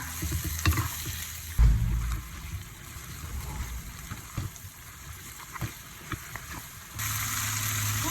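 Crab meat and glass noodles stir-frying in a wok over high heat, a steady sizzle and hiss with occasional scraping and clinks, and a louder burst of sizzling near the end.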